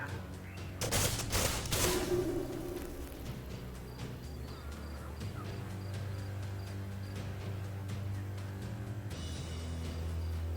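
Rapid gunfire bursts crackle from the strategy game Age of Wonders: Planetfall, a dense volley near the start followed by lighter scattered shots over a low steady hum, with no talking.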